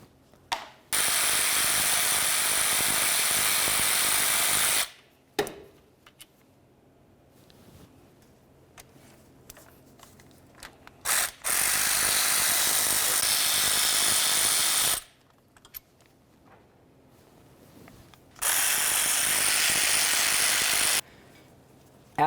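Rapid ratcheting bursts as starter bolts are backed out on a 2010-2013 Ford Transit Connect, three long loud runs of clicking separated by quiet gaps with faint handling noises.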